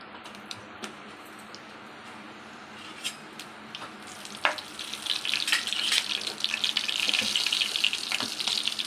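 Mustard and cumin seeds fry in hot ghee for a restaurant-style dal tadka, a soft hiss that swells into a brighter, denser spluttering sizzle about halfway through.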